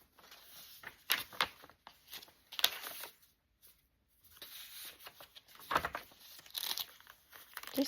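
Sheets of vintage paper bundled in a junk journal being handled and flipped, close crinkling and rustling in irregular bursts separated by brief quiet pauses, with no talking.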